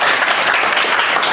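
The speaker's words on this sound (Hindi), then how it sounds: "ताली बजाओ भाई फर्मेट के लिए" A classroom group claps during a Hindi physics lesson on light refraction, giving a dense, continuous burst of applause heard close and loud throughout.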